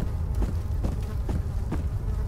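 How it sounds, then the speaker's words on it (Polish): Flies buzzing in the horror game Amnesia, a steady insect drone with a few soft pulses over a low background rumble and no talking. "Muchy."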